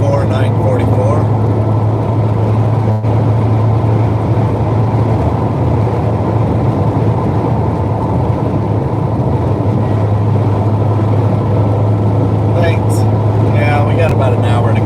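A 1984 Porsche 944 heard from inside on a drive, with a steady low engine drone and road rumble running the whole time, a brief knock near the start and faint extra noise toward the end.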